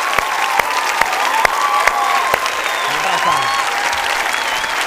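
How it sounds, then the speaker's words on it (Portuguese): Studio audience applauding steadily for Jô Soares on a Brazilian television talk show, a dense sustained clapping wash at close range with a few sharper individual claps standing out. "Eu queria pedir uma salva de palmas pro Jô Soares."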